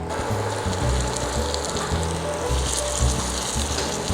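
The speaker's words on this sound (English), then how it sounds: "I'm going to take one and I'm going to slowly place it into the oil" Homemade potato pancake frying in hot oil, a dense continuous sizzle and crackle held steady and close, with no talking.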